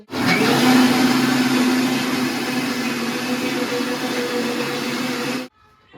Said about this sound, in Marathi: मी आता हे सुशांसाठी मिल्की शेक बनवायला